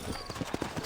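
Horse hooves clip-clop in Red Dead Redemption, a handful of quick, close steps over a soft game background.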